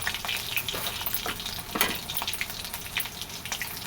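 Crushed garlic dropped into hot oil in a pan, a loud, dense crackling sizzle with bursts of spattering throughout.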